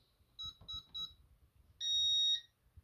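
A Concord 4 alarm keypad gives three short electronic beeps as the disarm code is keyed in, followed by a longer steady confirmation tone, loud and close in a quiet room.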